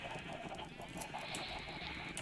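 Chickens cluck faintly in the video game Minecraft, with soft, scattered clucks over a low, steady background hum and no talking.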